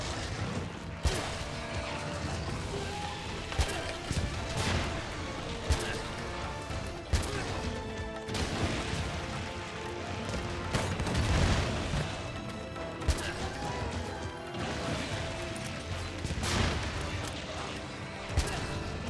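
Repeated explosive booms and crashes from the Fire Emperor monster in Monster Hunter Rise: Sunbreak, dense and loud over continuous game music and combat noise across the whole stretch.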